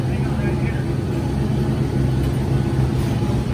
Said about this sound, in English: we just came off a hot lap, so we got the fan trying to cool it off